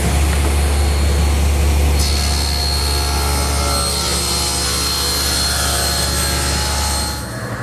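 A table saw rips wood along the rip fence, a loud steady whine and grinding roar that holds for several seconds, with a high tone entering partway through, before easing off at the end.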